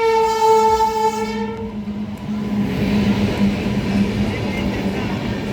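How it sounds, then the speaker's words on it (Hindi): The Bhagalpur to Anand Vihar Terminal weekly express, train 13429, pulls into the platform at Pirpainti, a loud horn blaring at first, then a heavy rolling rumble of coaches close by. "ट्रेन आ चुकी है प्लेटफॉर्म पे"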